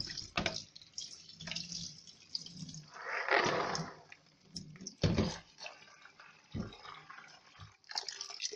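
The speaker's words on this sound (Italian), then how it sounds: "lavo e risciacquo i piselli e lascio scolare." Peas are washed and rinsed under running water in a kitchen, giving intermittent splashing, trickling and drips with a louder gush in the middle, close and fairly quiet.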